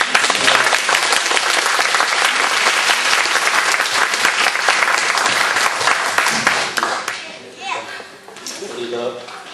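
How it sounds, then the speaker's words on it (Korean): Applause from a church audience at a new-members welcome gathering, loud and sustained for several seconds before thinning into scattered claps and fading, with some murmuring voices as it dies away. "제 대신 여러분께서 박수 한번 보내주시죠."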